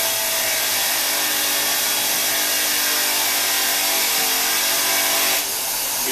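A power tool's wire brush scours rust from the jaws of a four-jaw lathe chuck, giving a loud, continuous, even grinding whir that shifts slightly near the end, with no voices.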